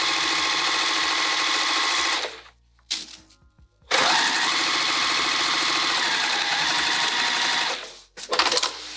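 A sewing machine stitching a tote bag runs in a fast, loud, even whir, stops briefly with a few clicks, then runs again in a longer burst before halting.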